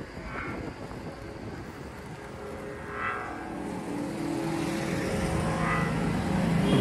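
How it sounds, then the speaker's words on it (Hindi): An Ola S1 Pro electric scooter in Bolt mode plays a simulated engine sound on throttle, a rising motor-like drone that climbs in steps like gear shifts and grows louder toward the end. "इसमें गियर शिफ्टिंग की भी जो है वो ऐसा लगता है गियर शिफ्ट कर रहे हैं"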